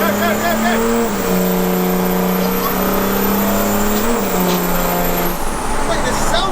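Boxy, square mail truck driving with a loud, steady engine drone whose pitch shifts with speed, constant and close, with people talking over it.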